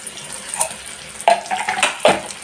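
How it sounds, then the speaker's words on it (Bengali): Fennel seeds hit hot ghee in a pan and start frying with a steady sizzle, loud and close, rising in a few bursts as they spread in the fat. "আর ঘিয়ের মধ্যে মহরি দিয়ে দিচ্ছি।"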